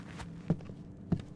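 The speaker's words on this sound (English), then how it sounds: "I love how the footsteps sound." Two footsteps in the horror video game Stifled land about half a second apart, soft and muffled against a low steady background with no talking.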